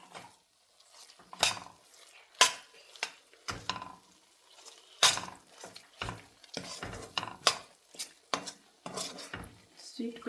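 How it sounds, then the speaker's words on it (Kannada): Barfi mixture stirred and fried in ghee in a pan, with repeated scraping and clinking of a spoon against the metal pan in uneven bursts, close and moderately loud, with no talking. "ನೋಡಿ, ಚೆನ್ನಾಗಿ ತುಪ್ಪದಲ್ಲಿ ಫ್ರೈ ಆಗ್ತಾಯಿದೆ"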